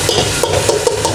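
Garlic ginger paste hits hot oil in a pan and sizzles steadily, with crackling splatters popping in an even, close, loud hiss.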